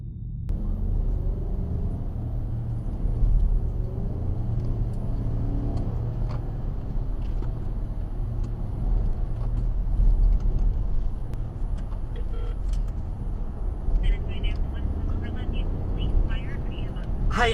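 A passing car and steady road rumble heard from inside a moving vehicle on a highway, a continuous loud low drone with small bumps and rattles throughout.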